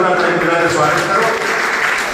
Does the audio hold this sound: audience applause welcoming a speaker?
yes